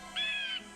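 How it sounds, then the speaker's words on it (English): A blue jay gives one harsh, drawn-out call lasting about half a second in the Nancy Drew game Ghost Dogs of Moon Lake. It sounds close and clear, stands alone against a quiet background, and no one talks over it. "Blue jay."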